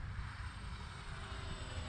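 Dynam C-47 RC model airplane flying, a steady droning engine hum that holds even and continuous throughout, fairly faint and heard alone.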